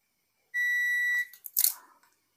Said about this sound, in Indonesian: Kita gunakan mode buzzer ya.